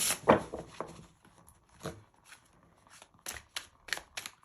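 Tarot cards being shuffled by hand at close range, with soft papery riffles and taps in short bursts, quiet and alone.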